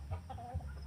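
Chickens cluck in a short, close burst of two or three calls while pellets are put out for about ten hens at morning feeding.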